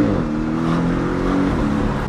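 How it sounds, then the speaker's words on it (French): A Porsche engine revving hard as its turbo kicks in, a loud steady roar with a rising whine heard up close inside the car. "quand le turbo vraiment rentre en action"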